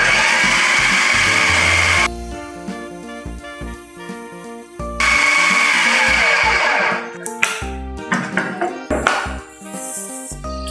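An electric mixer beats fish pempek batter as eggs are added one at a time, giving a steady loud motor whir that changes pitch and stops and restarts, with clattering near the end.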